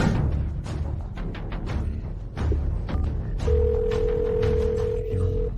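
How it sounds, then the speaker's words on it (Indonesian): A telephone rings on and on with no one answering, a steady electronic ring tone holding through the second half over low background music and noise. "Panglima Naga tak angkat telepon."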